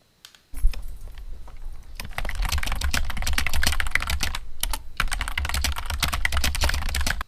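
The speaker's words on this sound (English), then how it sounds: "so that I can just listen to my typing" Rapid, continuous clicking of computer keys, close and crisp, with a brief pause midway before the typing resumes.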